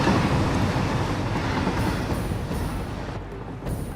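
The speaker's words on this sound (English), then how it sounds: "Almost caught that train." A train rolls past in the video game Satisfactory 1.2, producing a steady, loud rumble of rail wheels and cars that holds for the whole stretch, with no voices.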